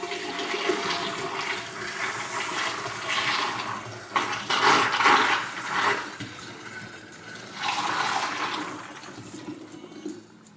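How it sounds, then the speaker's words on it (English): Home-brewed beer wort poured through a funnel into water, heard as loud gushing, gurgling surges in several separate pours, close by. "We're going to put the funnel in here, and we are just going to funnel the beer in"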